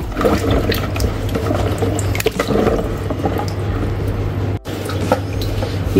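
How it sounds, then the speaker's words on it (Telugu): Tamarind pods are rubbed and washed in a vessel of water by hand, giving steady sloshing and splashing with scattered drips and a brief gap near the end, close and fairly loud, heard alone. "ఇప్పుడు బాగా రుద్ది కడిగి పక్కకు పెట్టుకుందాం."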